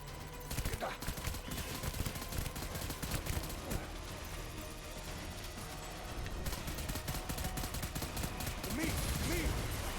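Sustained gunfire in Death Stranding rattles in rapid, continuous bursts at steady loudness for the whole stretch, with dense clicking shots over a rumbling bed.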